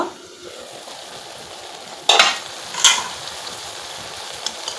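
Taro stolons and dried fish curry being stirred in a pan, two short bursts of scraping and clattering around the second and third seconds over a faint background hiss.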